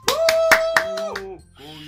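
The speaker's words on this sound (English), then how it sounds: "I'm the first to start applauding." In Doki Doki Literature Club, a few sharp claps land about every quarter second over a sustained electronic tone, then the tone fades into a softer chime.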